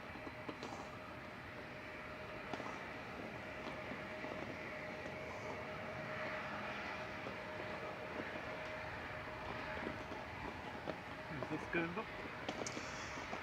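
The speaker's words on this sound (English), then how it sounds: "So Air France Hop departing here in front of us, heading back to Paris Charles de Gaulle" Air France Hop Embraer E170 airliner departing Manchester Airport, heard as a steady, distant jet roar that holds at an even level throughout, with faint wind and background noise.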